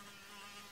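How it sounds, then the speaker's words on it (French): A bee buzzing in the video game Xtreme World, a continuous high insect drone that stays close and fairly faint for under a second, with no voices. "Bah, c'est une abeille."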